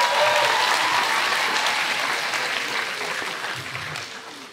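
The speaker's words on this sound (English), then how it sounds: "Let's give the girls one more round of applause." A crowd applauding girls after their act at a school talent show, a full sustained wash of clapping that holds strong and then gradually tapers toward the end.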